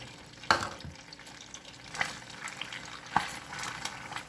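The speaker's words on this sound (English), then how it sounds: "We are melting the butter." Butter and brown sugar melt over low heat while being stirred in a pan: a soft, low sizzle broken by a few sharp scrapes and taps of the spoon against the pan.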